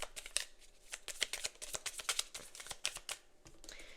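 Tarot cards being shuffled and drawn, heard as a quick run of crisp, close riffling flicks and soft slaps, irregular in rhythm, with no talking.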